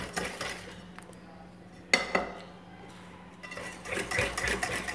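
Spoon scraping and clinking in a pot as cocoa and caramel flan mix are stirred into sugar, with a low steady hum throughout and a sharp metallic knock near the middle, then a busier burst of scraping.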